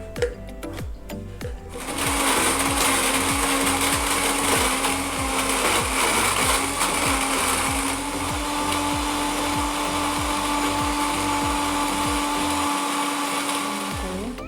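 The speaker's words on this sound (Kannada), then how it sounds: "ಹಾಕಿ ಇದನ್ನು ಬ್ಲೆಂಡ್ ಮಾಡ್ಕೋಬೇಕು" A kitchen blender whirs loudly and steadily, blending about 200 ml of milk with other smoothie ingredients for a high-protein breakfast, with a brief start-up before a sustained motor drone with rhythmic pulsing.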